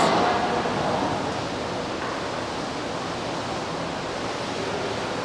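Water pours steadily onto freshly collected Pacific salmon eggs at a river hatchery, a continuous close rushing splash that starts slightly louder and settles into an even wash with no voices.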